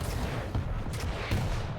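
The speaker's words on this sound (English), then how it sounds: "Oh, the rockets from Chera." Rocket fire during a 2v2 team deathmatch in Quake, a few faint, spaced blasts under the background noise of a competitive arena match.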